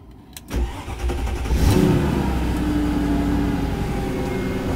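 A Mercedes ML500 engine cranks and catches, then settles into a steady, fairly close idle that runs on without talk.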